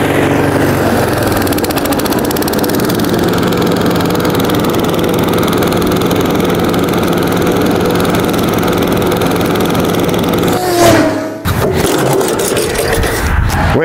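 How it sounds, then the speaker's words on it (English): A lawn mower engine runs loud and steady while mowing, a constant close drone that lasts throughout, then briefly dips and changes pitch near the end. "So let's mow this bad boy and we'll get with it."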